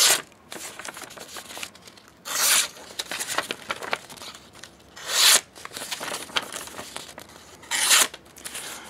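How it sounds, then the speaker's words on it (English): A Spyderco Perrin PPT knife slices through a sheet of paper in four distinct crisp, rasping cuts spaced a few seconds apart, with quieter rustling handling between them. "I wanted to show you a little cut test on this piece of paper before I go."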